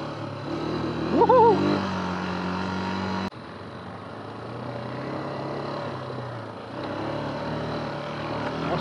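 A Yamaha Grizzly 350 4x2 quad rides off-road with a steady, fairly loud engine drone that carries through the whole stretch, its pitch briefly rising near the start and shifting as it moves along.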